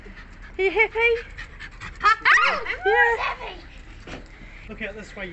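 A dog pants in short bursts at a hilltop lookout in Napier, heard close but partly masked by people talking and by wind.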